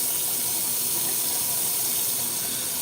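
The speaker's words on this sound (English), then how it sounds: "I'm gonna turn the water down." Water runs steadily from a bathroom tap into a sink, a constant near hiss with no pauses and no voices.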